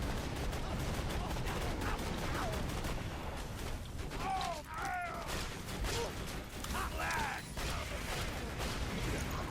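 Cannon assault rifle from Borderlands 2 firing in dense, continuous in-game bursts, loud gunfire and mechanical clatter filling the whole stretch with brief tonal game effects mixed in.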